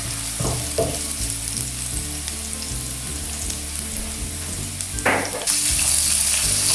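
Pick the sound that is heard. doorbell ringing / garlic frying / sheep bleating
garlic frying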